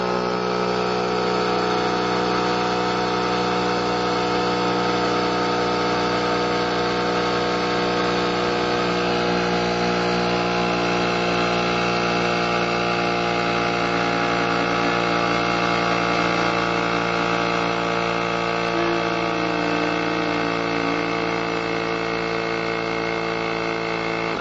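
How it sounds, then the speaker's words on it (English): A GOOLOO GT150 portable air compressor inflates a car tire, giving off a loud, steady motorized buzz with a strong droning hum that runs unbroken throughout, with no voices. "I should just be able to hit the power button, and this should start pumping up the tire"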